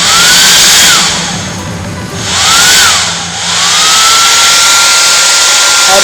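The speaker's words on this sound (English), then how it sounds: "I blow the parsley on low heat until it is dry." A hair dryer on low heat drying fresh parsley runs as a steady, loud blowing whoosh throughout, with a faint rising and falling whine as it is moved about; no one speaks.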